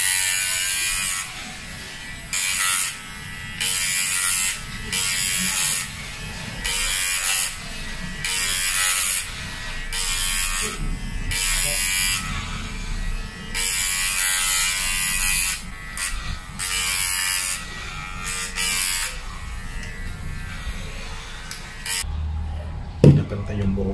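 Electric hair clippers buzz in repeated bursts as someone cuts their own hair, the close whine starting and stopping every second or two, with a person talking between the passes.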